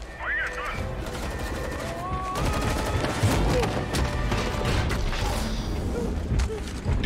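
Rapid bursts of gunfire crackle amid booms and mechanical clatter in Fortnite, with electronic tones and voices mixed in throughout.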